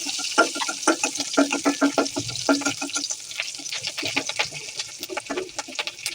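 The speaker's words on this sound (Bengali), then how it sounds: "এখন এটা একটু ভাজতে হবে।" Sliced green chilies and chopped onion frying in hot oil for masoor dal, a steady crackling sizzle with scattered close pops and stirring clatter, no voices.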